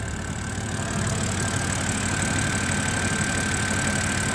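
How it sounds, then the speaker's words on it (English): BMW 330i engine idling with a shorter accessory belt spinning on the pulleys, a steady close mechanical drone with a faint high whine that holds even throughout, no voices. "I'll show you guys the shorter belt spinning."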